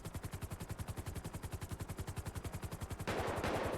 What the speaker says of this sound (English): Don't know why shots were fired, but that's for ground units to deal with